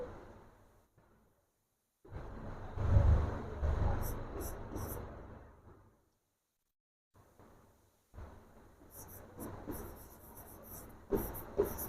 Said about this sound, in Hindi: अब हम यहाँ लिखेंगे